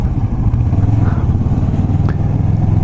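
Kawasaki Vulcan S motorcycle with a quiet exhaust cruising at highway speed, giving a steady, close, low engine drone under wind noise with no talking.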